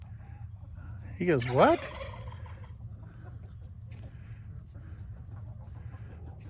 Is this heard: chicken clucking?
yes